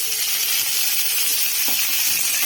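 Chopped mango pieces sizzle steadily in hot oil with spices, a loud, continuous frying hiss with faint stirring scrapes, no voices.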